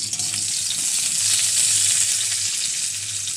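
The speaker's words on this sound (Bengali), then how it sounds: "কড়াইতে তেল গরম করতে দেওয়া হয়েছে, তেল গরম হয়ে এসেছে। এরপর পেঁয়াজ কুচিগুলো ভাজে নিচ্ছি।" Chopped onions frying in hot oil in a wok, giving a steady, loud, hissing sizzle that holds evenly throughout with a faint low hum beneath.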